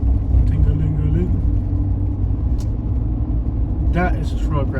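A Cadillac Escalade truck on 24- or 26-inch rims rolls past on a street in Tyler, Texas, its deep engine rumble loud and continuous, with people briefly talking near the end.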